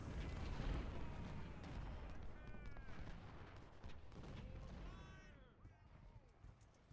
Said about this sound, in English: We want to just hit this guy with artillery for a while because we can.